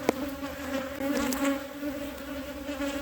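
Honey bees buzz with a steady droning hum throughout a beehive inspection, close and moderately loud, with faint handling noises and no speech.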